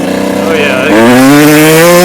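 Kawasaki KX 125 dirt bike, an older two-stroke, with its engine rising in pitch as it revs up, loud and close, under talk from a rider.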